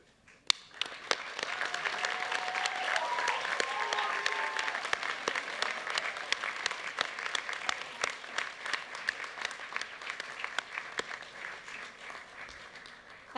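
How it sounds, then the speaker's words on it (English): Steady applause from a large graduation ceremony audience honoring graduates' family and friends, moderately distant, building quickly and holding evenly for over ten seconds with scattered sharp claps standing out. "acknowledge your supporters with a round of applause"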